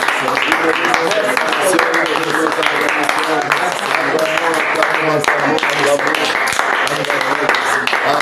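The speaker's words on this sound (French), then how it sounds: "Est-ce qu'on peut acclamer pour le Seigneur en cette soirée?" A congregation at an evening church revival service in Cameroon applauds and cheers. Dense, steady clapping mixes with loud raised voices and shouting throughout.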